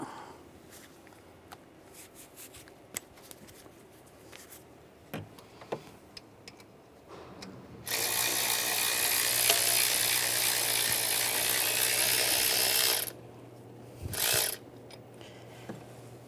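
Mechanical clicks and brief taps come from work on the accessory drive belt tensioner of a 2006-2009 Mercedes E350. A loud steady whirring burst from a power tool or ratchet spinning a bolt out follows, then one short burst.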